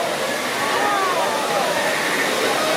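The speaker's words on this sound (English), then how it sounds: "See the waterfall, Jaden?" Dense, steady roar of rushing water from a waterfall seen during rainy weather, loud and continuous from start to end, with faint voices beneath.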